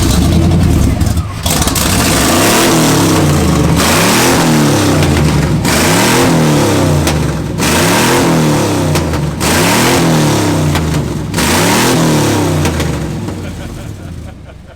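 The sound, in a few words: truck engine two-step revving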